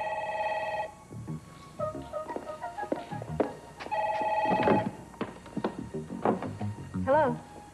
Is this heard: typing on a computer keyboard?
no